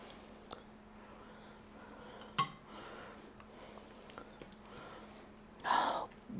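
Faint, sparse clinks of utensils against dishes as carne guisada stew is served: one sharp tap midway and a brighter clink near the end, over a quiet room hum.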